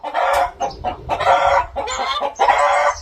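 Chickens clucking loudly and close, several bursts of busy cackling in quick succession with short gaps between, no voices.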